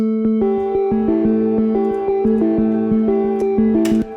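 Grouped synth layers run through auto-pan and OTT compression, sustaining a bright harmonic chord that pulses in quick, steady retriggered beats before cutting off near the end, loud and alone.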